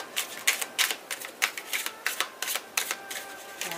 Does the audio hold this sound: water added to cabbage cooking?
no